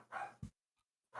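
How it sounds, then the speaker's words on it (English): A dog gives two short barks, separated by a pause of silence. The barks are faint and distant-sounding, and nothing else is heard. "Featuring special guest, Solia's dog. Toby."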